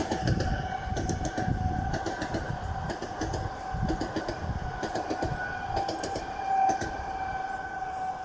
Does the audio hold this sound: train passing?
yes